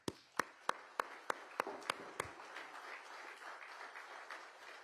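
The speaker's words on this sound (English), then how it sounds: "Let's give these family members a round of applause." At a Veterans Day breakfast reception, the audience applauds Gold Star families who lost loved ones in combat. A few distinct, evenly spaced claps open it, then they swell into a softer, steady wash of applause that continues without speech.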